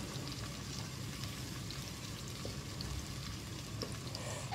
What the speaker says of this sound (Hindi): फ्लेम यहाँ पर मैंने मीडियम रखी हुई है, फुल हाई नहीं की हुई, मीडियम फ्लेम के ऊपर इसको फ्राई कर रही हूँ।